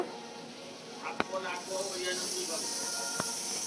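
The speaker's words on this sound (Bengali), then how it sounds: "এদিকে ঘুগনির জন্য মটর সেদ্ধ বসানো হয়েছে" A pot of peas boils for ghugni with a soft steady steam hiss, a couple of sharp clanks and faint background voices.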